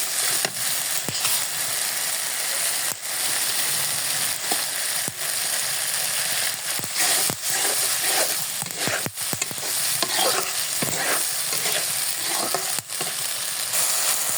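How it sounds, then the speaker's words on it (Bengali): Tomatoes sizzle loudly and steadily in a pan for a rohu fish curry, with a spoon scraping and clicking through the stirring at irregular intervals, close and continuous with no talk. "এখন 2-1 মিনিটের মতো নেড়ে চেড়ে নিব।"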